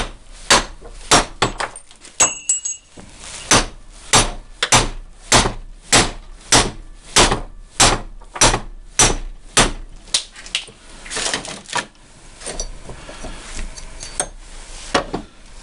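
A worn, failing U-joint on a Jeep axle rests on a vise and takes about twenty sharp, evenly spaced hammer blows. Loud metallic strikes ring close up, then a few scattered lighter hits follow.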